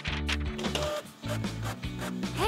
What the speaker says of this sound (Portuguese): Vamos pegar uma impressora.